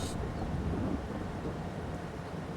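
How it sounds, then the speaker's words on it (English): Steady rain falling in Farming Simulator 22, a continuous soft hiss and patter with a faint low rumble like distant thunder, fairly quiet and with no talking. "because it's raining"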